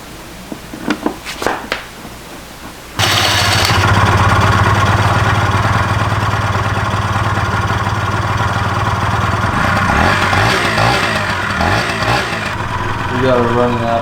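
A Honda Elite scooter engine, just revived after refusing to start, fires up after some brief knocks and then runs loud and steady near the microphone with small throttle changes, settling slightly toward the end.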